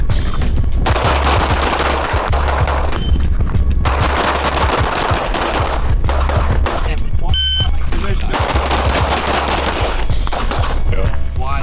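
Repeated bursts of gunfire at a shooting practice session, loud and close, with rapid shots in several strings separated by short pauses and electronic beeps, while people talk throughout.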